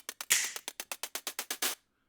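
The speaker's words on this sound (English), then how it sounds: "So it's gonna be on the 3 for the claps." A rapid run of a dozen sharp, evenly spaced electronic clap hits, crisp and dry, ending abruptly into silence.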